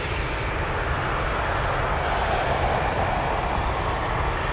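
An MD-11 jet pushing back at Anchorage airport gives a steady, loud broadband engine roar that holds evenly throughout, with no talk.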